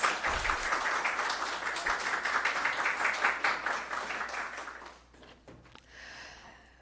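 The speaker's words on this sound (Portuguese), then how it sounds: "Mais palmas." A workshop audience's sustained applause for a law professor joining the panel holds steady for several seconds, then tapers off into scattered claps and room noise.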